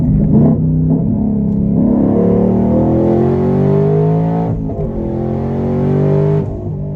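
A twin-turbo, six-speed car with electric exhaust cutouts open revs loudly and close, its engine note rising and falling through several deep swells and then dropping off abruptly.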